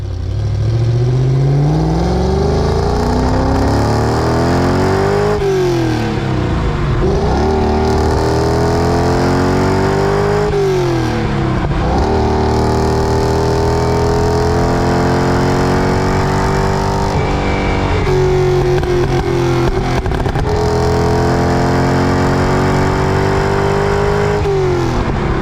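A Lamborghini with a 2.5-litre V8 pulls hard down the road, its engine note rising loudly through each gear, dipping briefly at every shift, then climbing again in a steady, repeated rhythm with no talking.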